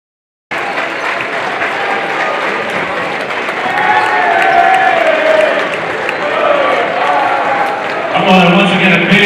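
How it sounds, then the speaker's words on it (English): Crowd in a gym applauding and cheering after a girls' high school basketball regional final, loud and sustained, swelling midway, with an announcer's voice over it and a brief louder shout near the end. "a big round of applause for both teams in this amazing basketball game this evening"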